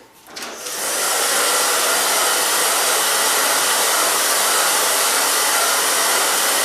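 A hair dryer switches on and roars steadily at full power, loud and close, while drying hair after cutting bangs.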